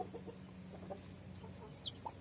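Newly hatched chicks from a cross between hybrid chickens and a native breed give a few faint, high, scattered peeps over a quiet, low background hum.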